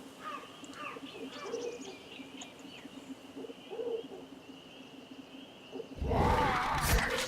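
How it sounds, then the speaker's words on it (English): A bird coos softly in a video game over a quiet ambient background, then a sudden loud, noisy burst takes over for the last second or so. "You shut up, you fucking bird motherfucker."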